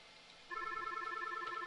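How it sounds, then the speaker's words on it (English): A telephone rings on a business phone line after a number is dialed, a steady electronic ring tone starting abruptly and continuing evenly, clear and fairly quiet. "That process will ring your phone"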